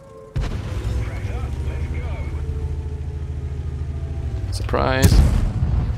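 World of Tanks high-explosive shells thump against a tank in the video game, with a steady engine rumble underneath and a sharp blast near the end while a player speaks.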